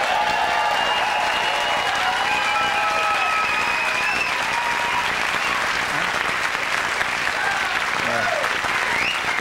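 A late-night talk show studio audience breaks into applause and cheering. Continuous crowd noise stays full and loud throughout, with voices mixed into the din.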